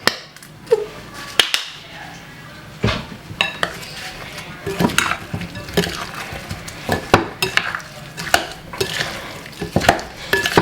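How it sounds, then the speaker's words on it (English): Oxtail being stirred together with ketchup in a marinade, steady wet squelching and clattering of a spoon against a bowl, close and busy throughout, with no talk. "Let's give it a lovely mix"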